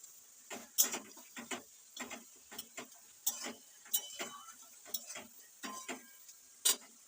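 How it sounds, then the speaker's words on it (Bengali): Snails cook in a pot with a quiet, irregular series of sharp clicks and clatters, roughly a dozen light knocks scattered over several seconds with little sound in between. "শামুক এখন এখানে সেদ্ধ হচ্ছে"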